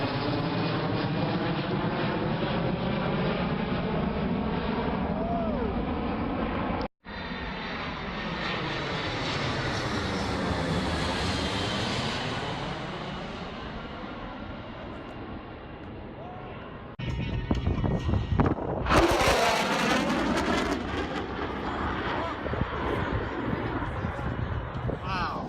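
A propeller-engine airplane passes overhead, a loud continuous droning roar that swells and shifts in pitch as it crosses, with a brief break and louder gusty noise near the end.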